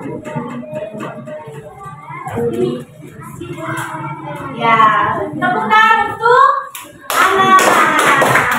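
Children clapping their hands in a classroom, scattered claps mixed with lively kids' voices and chatter that swell into a louder, fuller round of applause at the end.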